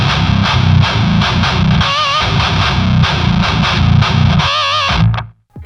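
A heavily distorted guitar tone played through a Kemper amp, loud and saturated, with chugging rhythmic palm-muted hits and a few pitch-bending squeals before it cuts off abruptly near the end.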